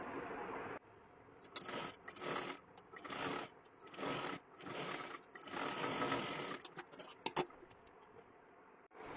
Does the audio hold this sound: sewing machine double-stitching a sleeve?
yes